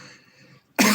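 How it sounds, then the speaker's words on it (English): A single hard, loud cough bursts out suddenly at the end after a faint murmur of background sound. "that was quite a hard cough"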